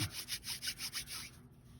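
Polymer clay being rubbed back and forth by hand, a faint close rhythmic swishing of about six quick strokes that fades out near the end.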